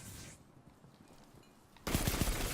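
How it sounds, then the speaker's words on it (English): A grenade in the video game Destiny 2 goes off with a loud, crackling burst of repeated blasts that starts abruptly after a quieter stretch of low game noise and keeps going to the end. "This grenade goes on forever"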